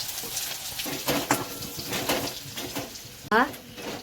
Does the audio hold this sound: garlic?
yes